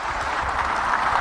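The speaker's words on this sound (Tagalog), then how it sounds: "tingnan mo yung palakpak, pang standing ovation" Steady applause from a crowd giving a standing ovation, a dense even patter of clapping that holds at the same level through a short stretch.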